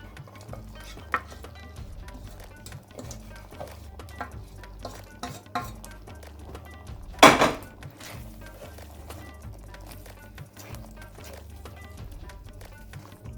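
Chicken tikka masala sauce stirred in a pan over medium heat, with soft scraping and mixing under steady background noise and one sharp clatter partway through.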